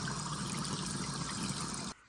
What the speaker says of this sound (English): Now when I turn the cold water on and run the faucet